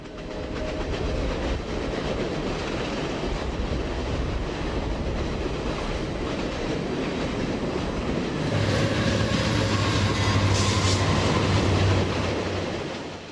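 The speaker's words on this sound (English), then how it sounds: "It is followed closely by Norfolk Southern's Triple Crown Road Railer train from Atlanta to Cincinnati" Norfolk Southern Triple Crown RoadRailer freight train from Atlanta to Cincinnati rolls past close by, a loud, steady roar of wheels and rail noise with clickety-clack, swelling louder near the end with a low rumble.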